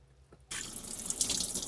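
A tap in a camper van in Seville suddenly starts running with cold water for someone washing their face, a close, steady hissing gush after a quiet moment, with no voices.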